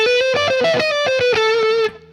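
A quick chromatic run of distorted electric guitar notes, played close and loud, ending with a held note that cuts off abruptly.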